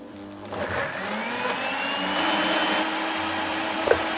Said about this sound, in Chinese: 把蒜子和蔬菜料倒入料理机中，放入少许的清水，然后打成汁。